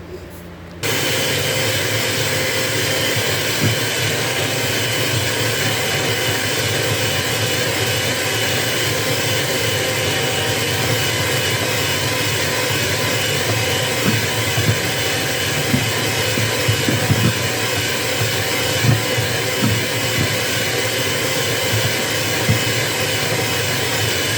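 An electric stand mixer whirs steadily on low speed while butter goes into French buttercream for macarons, a loud continuous hum lasting throughout with faint clatter underneath.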